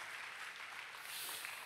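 Applause from a church congregation praising the Lord during a Filipino sermon, a steady even wash of many hands clapping at moderate level throughout.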